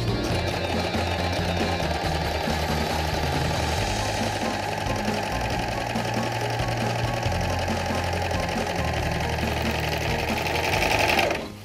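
An overlock sewing machine stitches fabric with differential feed set to 1.0, a loud, steady mechanical whir with rapid needle chatter running continuously close up before cutting off at the end.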